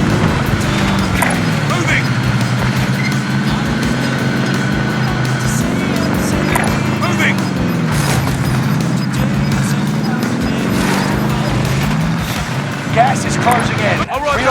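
A vehicle is driven across the map in Warzone Caldera, a loud, constant engine drone whose pitch rises and falls as it moves, with occasional bumps, under bits of voice.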